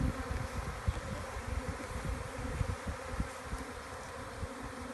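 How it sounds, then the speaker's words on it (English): A honeybee swarm being collected into a box gives off a dense, continuous buzzing hum as the bees fan, soft and steady throughout with no talking. "These bees, they're all fanning, indicative that the queen's here"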